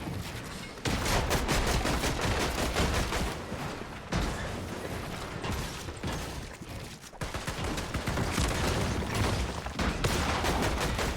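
Rapid gunfire from several weapons in a first-person shooter match on the Classified Canyon map, dense overlapping bursts filling the whole clip, loud and close, with a couple of brief drops before the shooting resumes.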